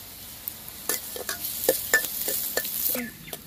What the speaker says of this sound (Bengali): এটাকে ভালো করে নাড়ি চাড়িয়ে নিয়েছি